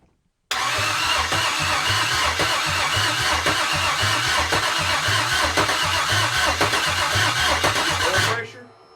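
A GM L86 6.2L engine mounted on a stand is started for the first time, giving a loud, rhythmic, pulsing crank and run that holds steady for about eight seconds before cutting off abruptly.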